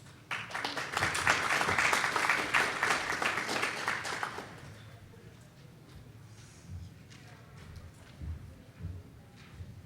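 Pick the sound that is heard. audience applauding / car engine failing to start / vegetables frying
audience applauding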